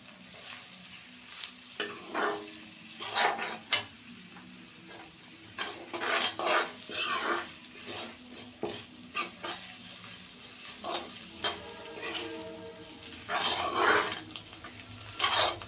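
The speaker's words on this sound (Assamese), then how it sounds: "তেতিয়া ভালদৰে লৰাই দিম।" Dried mushrooms and egg sizzle in a pan while being stirred, with repeated scraping strokes of a utensil against the pan in irregular bursts over a continuous frying hiss.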